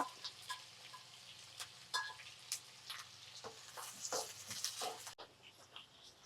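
Sliced onion, green chilli and curry leaves drop into hot oil with popped mustard seeds in a pan. Crackly sizzles and scattered pops and stirring clicks come at close range, with no talk.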